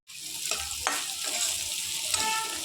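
Rice grains frying in a pan, with a steady close sizzle and several scraping stirs of a spatula against the pan.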